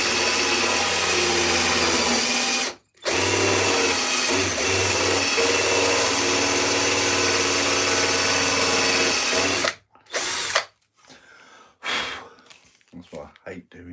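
Power drill boring deep into wood for carving: a long, loud, steady whine broken by one brief stop, then ending, followed by short bursts and heavy breathing and sighs up close.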